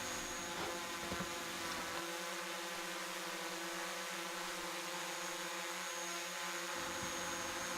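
A DJI Mavic Pro drone in flight gives off a steady high-pitched motor whine and whir, continuous and fairly close, with a faint drop in low rumble partway through.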